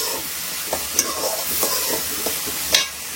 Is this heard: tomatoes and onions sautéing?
yes